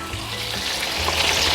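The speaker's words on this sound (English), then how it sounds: "Ah, listen to that sizzle." A short, dense burst of loud sizzling from chicken breasts frying in hot oil, a constant close crackling hiss with no talk.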